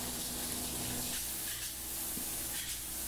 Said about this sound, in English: The polyurea is applied at 165 degrees and about 2200 psi.